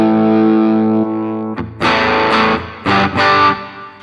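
An electric guitar played through a NUX Mighty Air practice amp on a Tweed Deluxe model with a 4x12 cabinet, distorted, opening with a sustained chord followed by several sharp, ringing strummed chords, loud and close.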